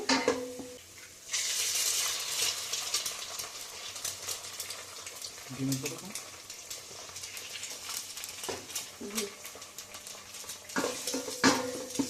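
Chopped onion and garlic frying in the pot of a rice cooker, with a soft sizzle and occasional stirring and scraping, close and steady.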